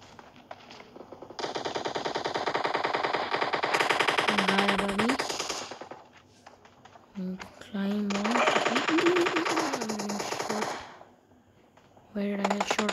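Rapid bursts of automatic gunfire from PUBG battle royale gameplay, several long loud volleys separated by brief pauses, with a short final burst at the end; no speech.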